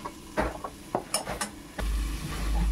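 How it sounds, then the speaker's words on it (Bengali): Dried curry leaves and sugar stirred in a pan with a utensil, producing several light scraping clinks and taps close by, ending in a duller rumble. "এখন একটু নেড়ে নেব, নেড়ে নিয়ে আবার ঢেকে দেব"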